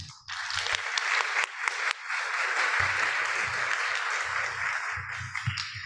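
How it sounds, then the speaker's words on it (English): Audience applause at a university summit, steady and full for nearly six seconds, with low murmurs and a few voices mixed in near the start and end. "let's clap for her once more"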